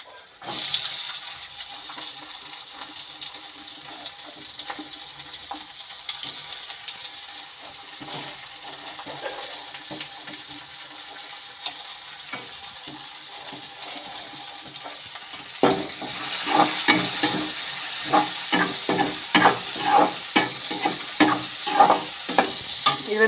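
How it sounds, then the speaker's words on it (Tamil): Onions fried and stirred in a pan for Tamil-style onion tomato chutney after dried red chillies go in: a steady sizzle with scraping stir strokes, growing louder and more clattery in the last third, with no talk. "அடுத்தது வந்து வெங்காயம் போட்டுக்கலாம்ப்பா."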